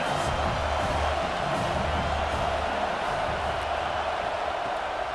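A stadium crowd roars for the defense on a big third down in EA Sports College Football 26, Ohio State vs Washington. It is a loud, sustained wash of cheering that fills the whole stretch.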